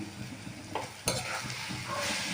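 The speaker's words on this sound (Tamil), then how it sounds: "இப்போ நம்ம ரைஸ் போட்டு மிக்ஸ் பண்ணிக்கலாம்" Cooked rice is stirred into mango thokku in a warm pan. A spoon scrapes and turns the mixture in a few quick strokes over a soft sizzle, close and brief.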